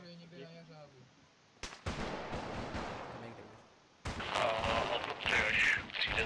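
Gunfire in Arma 3 during a Fallujah operation, with sharp cracks at first followed by a sustained, loud, noisy burst of shots that grows denser toward the end, with voices faintly underneath.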